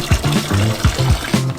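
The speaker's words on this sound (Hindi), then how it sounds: "हम 3 प्लास्टिक टब्स लेंगे। पहले में हम पानी भरते हैं।" Water is poured into a plastic tub, a short run of gurgling, splashing fill with a hollow resonant tone, close and fairly loud with no voices.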